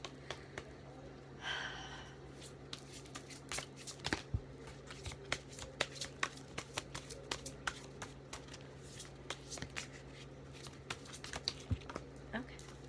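A deck of cards, apparently a tarot or oracle deck used in a reading, is shuffled close up in a quiet room, giving a steady run of soft riffling clicks and snaps that continues throughout.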